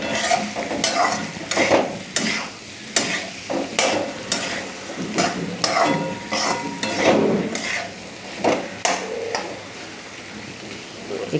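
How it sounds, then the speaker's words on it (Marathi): Potato bhaji is stirred and mixed in a hot pan, with repeated scraping strokes of a spatula against metal over a low sizzle, close up, and faint talk in the background. "सगळं मिक्स करून घेऊ."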